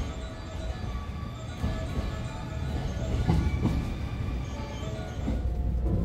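The Sunrise Seto/Izumo overnight sleeper limited express, bound for Tokyo Station, approaches and arrives, heard as a continuous heavy rumble with clattering wheels and squeals, loud and close on the platform.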